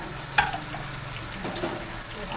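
Chicken pieces frying for achar gosht, a steady soft sizzle throughout with a brief clatter of a utensil against the pan near the start.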